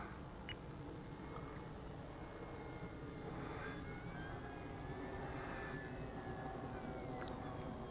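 A faint, distant whine of a small engine on a HiTec Weekender model airplane drifts overhead, rising and shifting in pitch as it passes, over a steady low background hum.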